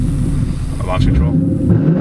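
A 2019 Ford Mustang GT launching hard off a launch-control start, its engine a loud, close, deep roar that surges upward as the car accelerates.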